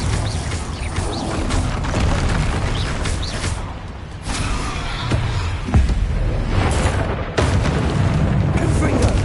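Spell blasts, including Confringo, fired in combat in Hogwarts Legacy: a continuous barrage of booming bursts and explosive impacts, loud and close, with a voice casting spells over the noise.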